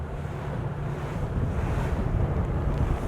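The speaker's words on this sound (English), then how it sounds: "the wind is so strong, it's blowing me off of the buoy" Strong gusting wind roaring over open water at a buoy, a steady loud rush with buffeting against the microphone and no voices.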